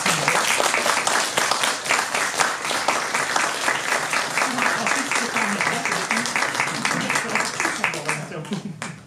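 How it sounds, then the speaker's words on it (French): Sustained audience applause at a cinema festival screening for film director Fabien Delage: a dense, steady crowd of clapping hands holding strong for about nine seconds before tapering off at the end. "je vous prie de réserver un tonnerre d'applaudissements à Fabien Delage, le réalisateur"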